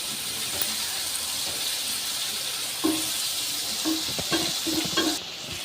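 Eggplant pieces fry in a pan for a kuzhambu, a continuous hissing sizzle broken near the end by several scraping, clattering turns of the pieces.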